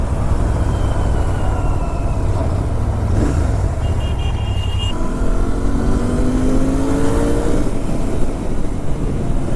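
A motorbike engine revs and climbs through the gears on a road, a loud, continuous roar with rising tones as it speeds up, heard close with steady wind noise underneath.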